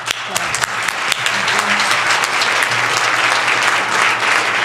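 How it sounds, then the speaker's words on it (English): An audience at a panel discussion breaking into applause for an event organizer, starting with scattered sharp claps and swelling into loud, sustained clapping, with faint voices underneath. "I want you to applaud"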